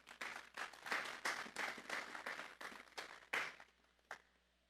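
A church congregation at a Sunday service applauding together, a steady burst of clapping that swells and then thins out, ending with a few last scattered claps.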